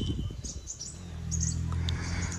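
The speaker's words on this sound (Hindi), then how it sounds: "आवाज़ ही मालूम चल रहा है, बहुत छोटी चिड़िया होंगी" Faint, high chirps from very small birds in an apple orchard beside forest near Dhanaulti, Mussoorie, come in short scattered bursts over a low rumbling background.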